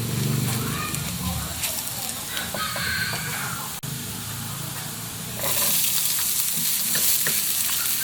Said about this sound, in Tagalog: Dahil nag-brown ang ating bawang, sunodin natin ng ating sibuyas.